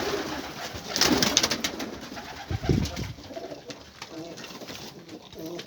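Pigeons coo nearby while pecking at feed, giving low throaty calls among scattered clicks and rustles, with no talk.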